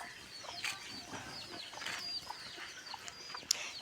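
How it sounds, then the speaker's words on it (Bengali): Backyard chickens make faint, scattered clucks and squawks against a soft, noisy outdoor background, with a few sharper calls breaking through now and then. "মুরগিগুলো কি দেখছে না দেখছে কে জানে শুধু আওয়াজ করছে চিল্লামিল্লি করছে"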